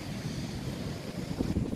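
Sea waves and wind on the beach at Tangier, Morocco: a continuous roar of surf mixed with buffeting wind noise on the microphone, fairly loud and unbroken, with no talking.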